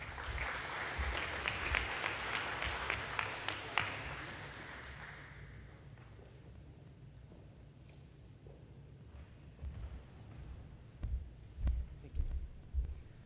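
An audience at a high school senior honors night applauds for a few seconds, the clapping fading out into a quiet room with low rumbles and a few soft thumps afterward.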